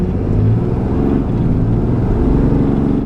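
A Ram 3500 pickup truck accelerates hard from a standstill toward 60 mph, its engine roaring loudly and steadily as heard from inside the cab, with no speech.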